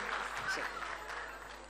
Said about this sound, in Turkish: Onu da alkışlarınızla buraya alacağız.